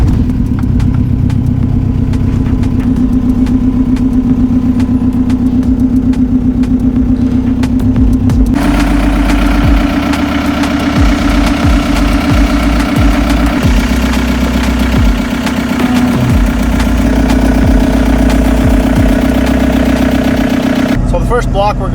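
A TDI diesel engine swapped into a Toyota pickup idles steadily while warming up, a continuous low rumble that stays loud and even throughout, with a slight shift in tone partway through.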